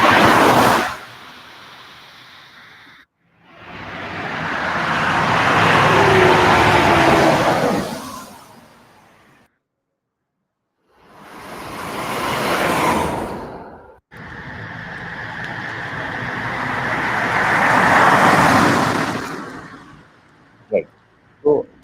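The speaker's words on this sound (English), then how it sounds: "So there are four generations that have happened for car whizzing by." Four separate AI-generated car pass-bys, each a loud whoosh that swells and dies away, with short silent gaps between them and a couple of faint clicks at the very end.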